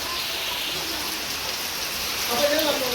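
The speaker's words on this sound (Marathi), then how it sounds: "मस्त पाऊस पडते" Steady rain falls at a farmhouse in Murbad, a continuous close patter that holds evenly throughout, with a faint tonal sound rising near the end.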